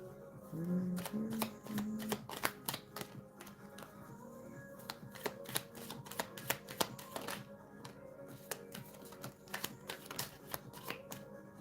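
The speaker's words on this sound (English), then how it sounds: "this is the last shuffle I do with this deck" A deck of cards is shuffled repeatedly, crisp riffling bursts and taps close by, with a brief hum of voice at the start.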